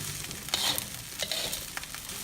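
Balinese fried rice with spring onion being stir-fried, soft steady sizzling close by with a few quick spatula scrapes and stirs against the pan.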